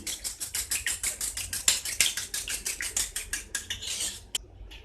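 Eggs with salt whisked briskly in a bowl for a cheesy chicken omelette, a fast regular clatter of utensil against the bowl, about four beats a second, close and steady until it stops near the end.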